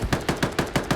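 Rapid automatic gunfire in a video game battle, six evenly spaced loud bursts fired in quick succession, close and punchy with no voices.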